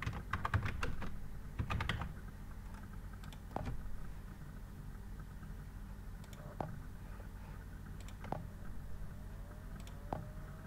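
Computer keyboard typing into a search box on a Windows PC: scattered, sharp key clicks in short bursts with pauses between them, fairly close and clear over a steady low background hum, with no voices.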